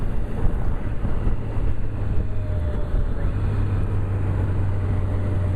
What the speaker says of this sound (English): we're just tooting along here on the motorcycle, having fun